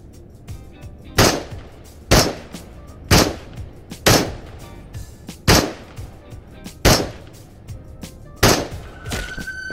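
Makarov pistol shots in the VR game Into the Radius: about nine sharp, loud reports fired singly at a slow, fairly even pace, each with a short decaying tail.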